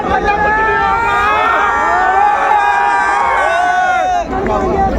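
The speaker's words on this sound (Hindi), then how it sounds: "एक बार जोरदार तालियां दोस्तों" Large outdoor crowd at a public cultural event with Uttarakhand's chief minister cheers and shouts loudly and steadily, a dense roar with whoops and babbling voices throughout.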